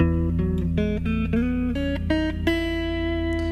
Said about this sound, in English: So a normal major scale here in E sounds like this.